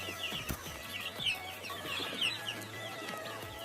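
Local chickens on a farm cluck and call in short bursts at close range, with a low steady hum running beneath and no one speaking.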